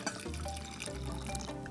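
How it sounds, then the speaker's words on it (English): Water is poured from a heated container back into a glass, a short continuous trickling splash, close and fairly quiet, with a low background hum. "You can just pour it back into your glass."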